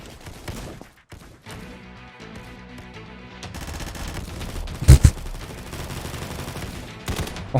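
Rapid automatic gunfire from the video game Combat Master rattles in dense bursts, with one heavier boom partway through, over game music and effects, as enemies are shot while they emerge.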